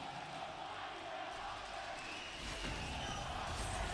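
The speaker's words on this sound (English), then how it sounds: "The crowd is loving this game right now." An esports arena crowd cheers through a League of Legends match at MSI 2023, G2 against LLL: a dense, steady roar of many voices that swells slightly toward the end, with faint commentary underneath.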